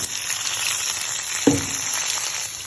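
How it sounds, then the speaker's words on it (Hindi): Onions sizzling in a pan for chicken karela, a steady close frying hiss with a single stir or clink partway through, no talking. "प्याज हमारा फ्राई हो रहा है"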